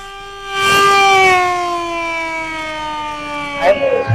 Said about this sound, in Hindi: दोपहर 2 बजे सिविल डिफेंस की ओर से कोतवाली के सामने सायरन बजाया गया।